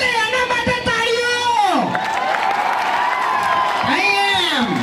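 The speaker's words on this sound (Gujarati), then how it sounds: "એટલે એના માટે તાળીઓ" A crowd at a tea shop opening in Deesa cheers and claps for a fan who brought gifts, a steady loud swell of voices, whoops and applause running through the whole stretch with shouting on top.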